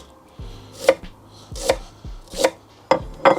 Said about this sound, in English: we need 1 red onion. Just go ahead, cut that in half, get the skin off